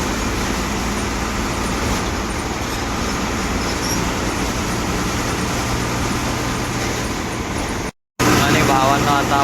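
An MSRTC Lal Pari bus cruises along the Vashi highway out of Mumbai, a steady loud rumble of engine and road noise filling the cabin almost without pause, with a brief dropout near the end.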